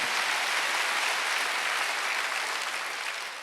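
A crowd claps steadily and loudly at a church worship service, a dense wash of applause that holds throughout and only slightly thins toward the end.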